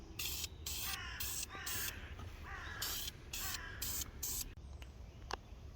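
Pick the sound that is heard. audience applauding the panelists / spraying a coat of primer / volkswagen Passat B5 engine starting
spraying a coat of primer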